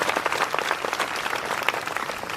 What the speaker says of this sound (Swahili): Si apigwe makofi